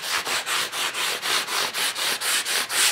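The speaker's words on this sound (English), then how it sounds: "I'm going to use my sponge sander again, this time the thicker, kind of drier side here" A sponge sander rubs across the body of a Glarry GST II electric guitar in steady back-and-forth strokes, about four per second, loud and close with no voices.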